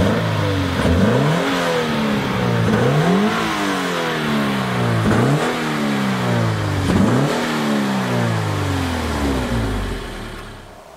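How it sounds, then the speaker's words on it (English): A 2019 Subaru BRZ Series.Gray sports car engine revs hard, rising and falling in about four sweeping blips over a steady idle, loud and close with no talking. "Let's go ahead and fire up this Series.Gray BRZ."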